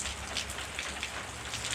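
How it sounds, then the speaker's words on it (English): Light rain falling on a shingle roof, a steady soft patter of scattered drops that is faint and continuous, with no voices. "So it's raining slightly right now"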